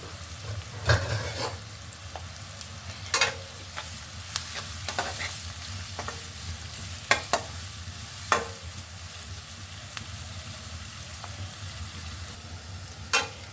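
Chopped green chillies and onion get stirred in a hot pan, giving a continuous low frying hiss with repeated sharp scrapes and clinks of a spatula at irregular intervals over several seconds; nobody talks.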